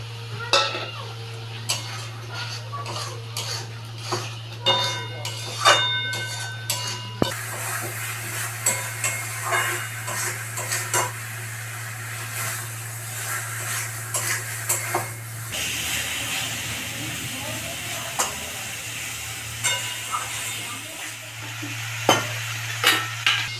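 Fried potatoes stir and sizzle in a spice masala in a pan, with a continuous low hum, frequent spatula scrapes and metal clatter against the pot, and the frying hiss swelling louder midway.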